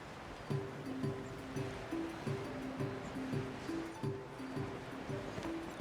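A rushing waterfall in the video game Genshin Impact gives off a steady, even roar of water beneath a looping, melodic game music phrase that repeats in short bars. No one speaks.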